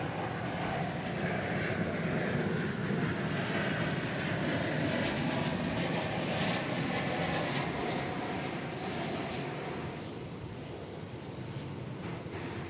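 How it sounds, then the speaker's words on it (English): A Delta Airbus A220 arrives from Seattle at DFW Airport with a sustained jet roar and a thin high engine whine that fades slightly toward the end, heard at a moderate distance with no talk. "Delta A220 arriving from Seattle."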